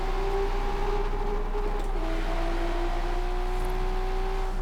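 A Nissan Skyline GT-R R33 in the Forza Horizon racing game drones at steady high revs on a highway, a continuous loud engine tone rising slightly and holding without pause.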